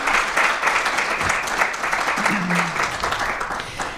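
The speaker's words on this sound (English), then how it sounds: "let's give Mandy a round of applause for the time that she spent here" An audience at a lecture on tolling and congestion pricing gives a guest speaker a round of applause, many hands clapping in a dense, steady roar that tapers slightly toward the end, with a faint voice underneath.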